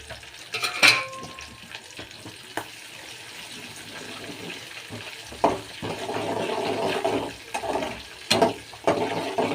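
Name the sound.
green chilies added to sizzling pan for pongal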